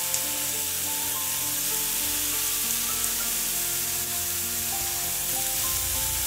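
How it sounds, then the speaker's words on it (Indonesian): Meat sizzling in a nonstick Tefal frying pan, a steady crackling hiss of frying that continues throughout, close and fairly loud with no talking. "Ini saat yang tepat memasukkan daging ke wajan."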